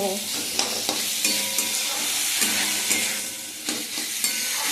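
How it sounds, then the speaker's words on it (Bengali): Masala stir-fried in a pan, a steady close sizzle broken by a series of scraping stirs and light metallic taps at an irregular rhythm, with no talking. "দেখো, মশলাটা আমি কষিয়ে নিচ্ছি।"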